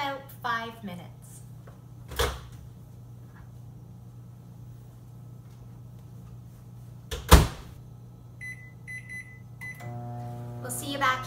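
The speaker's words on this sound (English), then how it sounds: "I'll stick those in the microwave for about 5 minutes." A microwave oven hums steadily at low level, with a door clunk, a few beeps as buttons are pressed, and clattering around it.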